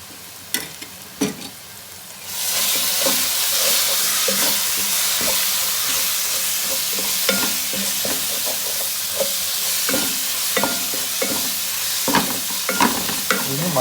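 Ginger garlic paste and Kashmiri chili sauté in a pan for mutton biriyani. After a quiet start, a loud, steady sizzle sets in, with repeated scraping stirs of a spoon up close.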